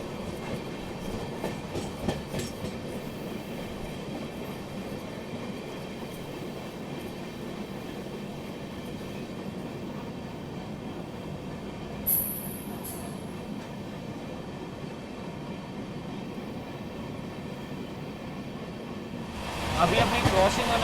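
A Rewanchal Express passenger train runs along the tracks at speed, heard from on board with a steady rumble and wheel clatter throughout, a brief squeal near the middle and a louder rush at the end.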